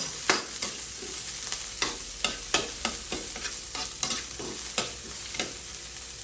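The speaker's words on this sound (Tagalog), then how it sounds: "Dahil mainit na ang mantika, gisa natin ang sibuyas. Sunod natin ang bawang." Onion and garlic sautéing in hot oil for Bicol Express, with a soft continuous sizzle broken by repeated sharp scraping strokes of a spatula against the pan at an irregular, brisk rhythm.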